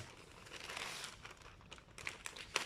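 A mystery box package holding a shirt is cut and opened, giving quiet, close crinkling and rustling of plastic and paper with a few sharper crackles near the end.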